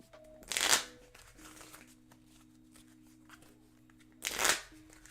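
Two bursts of cards being shuffled, riffling loudly near the start and again near the end, with a quieter room in between.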